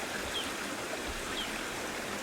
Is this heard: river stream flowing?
yes